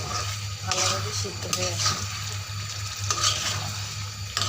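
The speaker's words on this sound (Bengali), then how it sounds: "এখন আমি আবার ঢাকনা উঠিয়ে আবার নাড়া দিচ্ছি।" Chicken curry stirred in a pot with the lid lifted, a scraping, sizzling bubble running steadily through the clip while someone talks over it.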